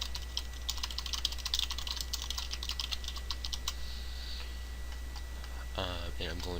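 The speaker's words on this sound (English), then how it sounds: "so I just type in my account information here" Rapid keystrokes clatter on a computer keyboard while account details are entered, a dense run of close, light clicks over a steady low hum that thins out toward the end.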